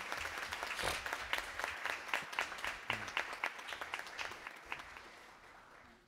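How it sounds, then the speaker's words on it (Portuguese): A solemn evening ceremony honoring Dr. Terezinha draws warm applause from the hall, a thick crowd of clapping hands that holds steady, then thins into scattered claps and fades out toward the end. "Uma salva de palmas para a doutora Terezinha."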